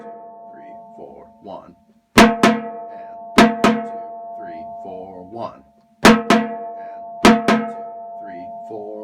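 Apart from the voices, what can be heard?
fifth bass drum playing big booming bottom notes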